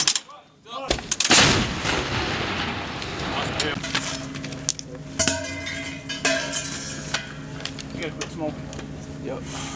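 Howitzer artillery firing live rounds at enemy positions in Afghanistan: one huge, sharp blast near the start with a long rumbling decay, then lesser booms and mechanical clatter as radio chatter and shouted commands continue.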